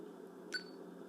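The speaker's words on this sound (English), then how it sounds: "now we can just tap record and we'll hear a beep" A single short electronic beep from an Olympus LS-14 recorder sounds once in the middle of a quiet, hissy room.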